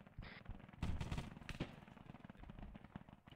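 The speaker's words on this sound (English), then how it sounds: "I just heard shots and someone go down" Gunshots in a tactical military shooter game, a cluster of sharp cracks and rattling bursts at moderate distance, followed by quieter scattered noise.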